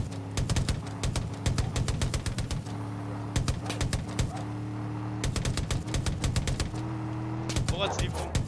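Bird cooing in the video game Far Cry New Dawn, a soft repeated call heard among dense rhythmic clicking and steady low game ambience.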